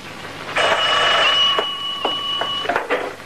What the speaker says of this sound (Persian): تلفن زنگ بزنه